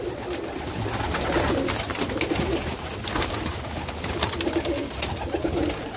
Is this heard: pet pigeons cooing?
yes